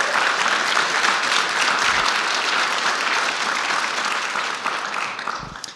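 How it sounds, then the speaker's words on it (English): An audience at a business event applauds in a dense, sustained burst of many hands clapping, loud at first and gradually fading toward the end, with no talking. "Please give them a round of applause."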